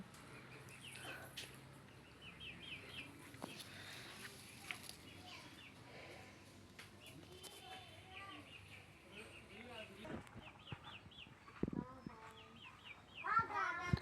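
Hens cluck intermittently nearby, mixed with other bird calls and the chatter of children in the background.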